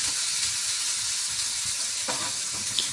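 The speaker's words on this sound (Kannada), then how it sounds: "ಈಗ ಟೊಮೆಟೊ ಹಾಕಕತ್ತೈತಿ ನೋಡ್ರಿ" Tomatoes dropped into a pan of frying onions, a steady loud sizzle and hiss throughout with a brief stir-like clatter near the end, no voices.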